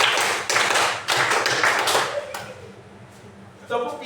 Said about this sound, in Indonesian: tepuk 4 2 kali.